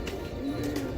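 Almari wale pigeons, a home-bred line, give a soft low cooing, faint and steady over a constant background hum, with no speech.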